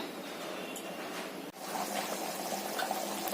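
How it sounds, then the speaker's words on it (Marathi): A pot of Malvani-style black pea sambar bubbles at a low, steady simmer, a soft wash of watery burbling with a brief break midway before it resumes slightly fuller. "आता सांबाराला छान उकळी आली आहे."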